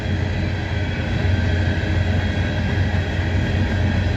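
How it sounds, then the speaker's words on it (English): A heavy coal train rumbling past nearby, a steady, loud low roar with constant grinding noise and no voices. "The SCWX coal train."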